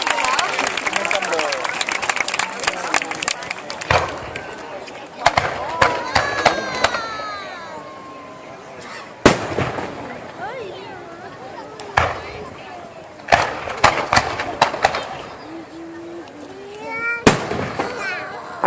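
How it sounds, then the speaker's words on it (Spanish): Fireworks burst over the beach at Blanes, a string of loud sharp bangs and crackling volleys repeating at irregular intervals, with whistling trails between them and a cheering, chattering crowd talking throughout. "Parecemos niños mirando los fuegos artificiales."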